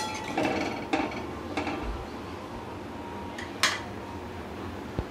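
A lid set down on a pot of vegetarian Bengali cholar dal on the stove: a few light metallic clinks and knocks, with one sharper clink near the end, over a soft steady background hum and no talk.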